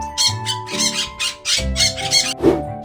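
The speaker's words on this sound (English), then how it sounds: "P is for parrot." A parrot giving a rapid run of harsh, piercing squawks, about eight short bursts in three seconds, loud and close, with no speech over them.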